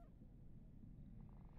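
A cat in the Cyberpunk 2077 video game purring while being petted, a low, continuous rumbling purr heard up close and alone for a brief moment.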